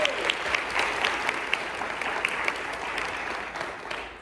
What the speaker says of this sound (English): let's clap for Laura